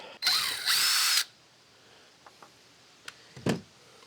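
A power drill bites into thick steel trailer tubing in one loud, close burst of about a second. A few faint clicks and one short knock follow in a quiet workshop.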